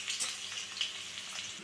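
Mustard seeds, cumin, chili pieces and a pinch of turmeric crackle and sizzle in hot oil for a tempering, a close, continuous frying hiss with small pops.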